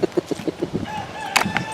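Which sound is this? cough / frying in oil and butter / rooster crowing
rooster crowing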